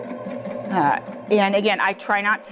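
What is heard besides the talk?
Baby Lock Jazz II sewing machine stitching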